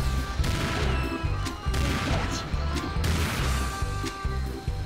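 In Serious Sam 2, played on Xbox 360 with a controller, a gun fires at flies in rapid rhythmic bursts, each loud blast followed by crashing impacts and a short pause.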